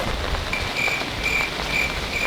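Steady rain falls in a continuous hiss, with faint chirping insects and a soft wash of drops heard close, no voices present.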